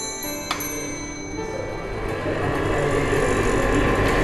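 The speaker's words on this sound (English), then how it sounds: "This is a bell cup apparatus." An electrostatic bell cup apparatus in an electrical lab gives a rapid, steady run of small metallic ticks and rings that continue throughout at close range.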